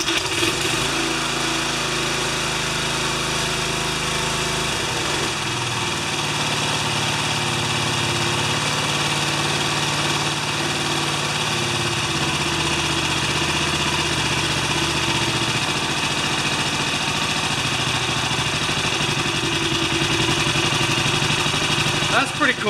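A 1973 Briggs tiller engine runs steadily at three-quarter throttle, a loud, continuous small-engine drone with a constant buzzing hum and no talk over it.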